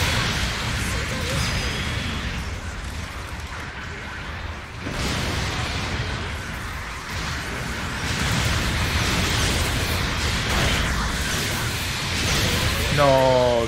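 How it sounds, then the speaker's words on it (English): Rocket shots and explosions in the mecha combat game Mobile Suit Gundam Battle Operation 2: continuous loud blasts and whooshing bursts form a dense, roaring battle din throughout, with a rising zap near the end. "I'm shooting right rocket!"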